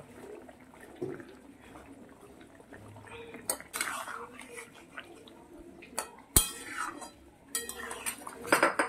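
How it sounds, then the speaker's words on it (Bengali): A metal lid clanks onto a pot of simmering Bengali katla fish curry with potatoes and cauliflower. A few sharp clinks stand out over soft kitchen rustling and faint movement. "ঝোলটা ভালো মতো ফুটে গেছে, এবারে আমি ঢাকা দিয়ে দেব।"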